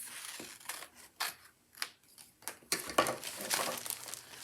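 Scissors snip and trim a sheet of letter-size paper in a series of quick, crisp cuts with light crinkling between them, close by and fairly quiet, with no voices.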